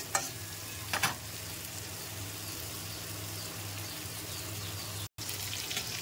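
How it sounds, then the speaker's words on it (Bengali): Bitter gourd frying in a pan while being gently stirred, with an even close sizzle, a couple of utensil scrapes near the start and a brief gap later. "উচ্ছেটাকে হালকা হাতে নেড়ে চেড়ে ভেজে নেব।"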